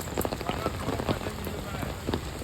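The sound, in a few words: heavy rain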